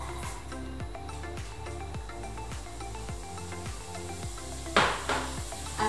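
Chopped onions sautéing in a pan, a soft steady sizzle under a repeating low rhythmic pattern, with a brief louder scrape or clatter near the end.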